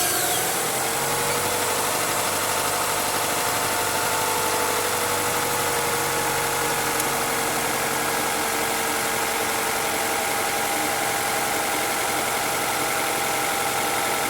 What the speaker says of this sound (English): Please start engine and wait 15 seconds.